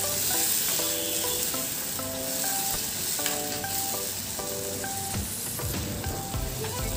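Tomato and chili paste sizzling in a pan for momo chutney as it is mixed, a continuous near frying hiss broken by gentle stirring and scraping over about seven seconds.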